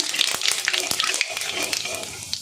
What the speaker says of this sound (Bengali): তেল গরম হয়ে গেছে, আমি গোটা জিরেটা ফোড়নে দিয়ে দেব। ভালো করে ভেজে নেব জিরেটা।